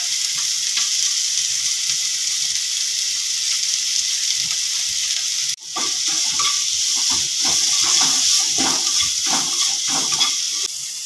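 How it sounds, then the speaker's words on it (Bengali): Tomato, capsicum and grated carrot sautéing in a pan, a steady close sizzle with a brief dip midway, then scraping and stirring strokes over the continuing fry. "মিনিট 2-3 ক্যাপসিকাম টমেটো সব সাঁতলে নিয়ে দিয়ে দিচ্ছি গ্রেট করা"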